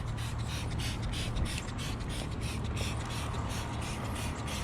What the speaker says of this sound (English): Spray some on it real quick.